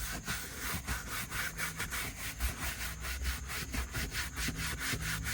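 A soft bristle brush scrubs soapy leather cleaner into a car's leather seat, giving a steady, close back-and-forth rubbing with rhythmic strokes that continue throughout, with no talking.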